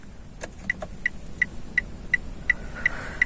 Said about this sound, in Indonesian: Atau bunyi lampu hazardnya nih ya.